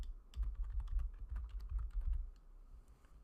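Rapid, uneven clatter of keys as a name is typed on a computer keyboard, close and fairly quiet, a burst of keystrokes that trails off into silence near the end.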